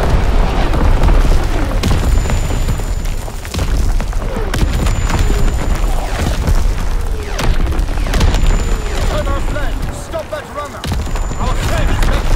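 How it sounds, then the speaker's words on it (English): Fritz X bomb explosions in the video game Call of Duty: WWII, deep loud booms and rumbling blasts repeating across a dense, chaotic battlefield with radio-style voice callouts. "Dropping Fritz X bomb."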